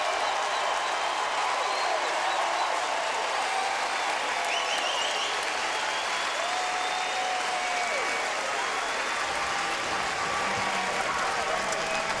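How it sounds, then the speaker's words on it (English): A baseball stadium crowd cheers and applauds loudly and without a break, a dense, steady roar of clapping and voices filling the whole stretch. "Listen to this crowd."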